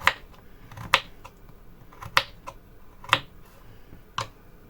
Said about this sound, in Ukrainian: беремо декілька картоплинок, обчищаємо і нарізаємо ось такими дрібненькими можна кубиками